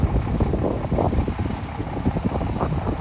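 A heavy truck hauls a lowboy flatbed trailer carrying a large transplanted live oak tree, its engine rumbling loudly and steadily up close with no voices over it.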